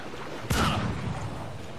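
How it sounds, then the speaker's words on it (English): A single loud gunshot bursts out from enemy aimbot players in a video game, a sharp crack with a rumbling tail that fades over about a second against steady background noise. "We've got our aimbot friends shooting at us."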